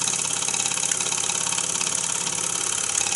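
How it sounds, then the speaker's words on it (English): An IGLA vertical single-acting oscillating cylinder model engine running steadily, a rapid even chuffing with a bright hiss, close and constant throughout. "There isn't much really special about this engine."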